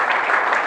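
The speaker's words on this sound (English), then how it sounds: "Ladies and gentlemen, give her a big round of applause." Dense, steady clapping from a magic show audience, a continuous wash of hands with no voices standing out.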